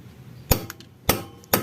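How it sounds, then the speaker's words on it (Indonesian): Three sharp hammer taps strike a metal part while ignition timing is set on a Vespa PX scooter, spaced about half a second apart, close and distinct over a quiet background. "baru kita palu biar ikuti garis yang kita inginkan. Seperti ini, kita palu dulu."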